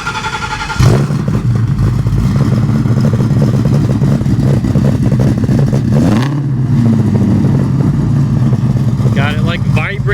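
A 1967 Mustang resto-mod with a supercharged Coyote V8 fires up with a sharp crank and settles into a loud, steady, rumbling idle, then gives a quick rev partway through, with people talking over it.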